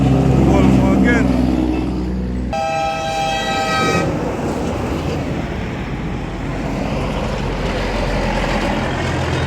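A Volvo truck drives past nearby with a heavy, loud engine rumble, and a long horn sounds for about a second and a half partway through; the low rumble continues steadily afterward.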